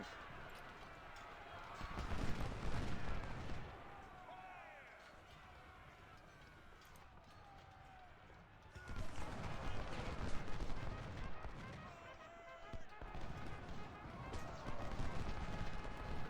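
Gunfire and cannon fire from an American Civil War battle at Chickamauga in Ultimate General: Civil War, with bursts of shots rising and falling over steady battle noise beneath someone talking throughout.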